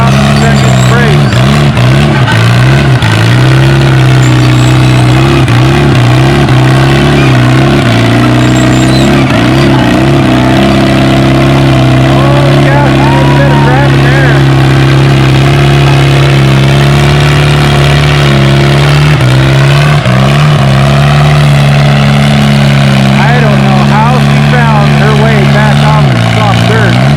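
A tractor pulling a small sled at a pulling event roars loudly and continuously, its engine revving and droning at full power for the whole run, while an announcer talks over it.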